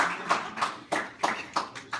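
A small audience at a college event on hunger claps in a few sparse, uneven bursts, roughly five or six separate claps over two seconds, fairly faint and close.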